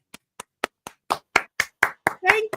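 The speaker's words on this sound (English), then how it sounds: "Round of applause." A single person claps in a slow, steadily quickening rhythm of about ten distinct claps, close and loud, with a voice joining near the end, on a reality television show.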